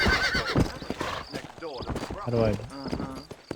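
Horse hooves clip-clopping in Red Dead Redemption as a horse is ridden out of town, with a whinny and a steady hoof rhythm under overlapping talk.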